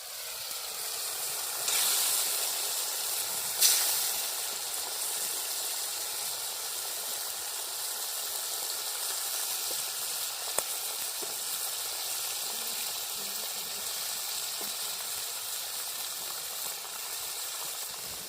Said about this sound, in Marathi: आता मस्त उकळी आली आता शिजायला लागले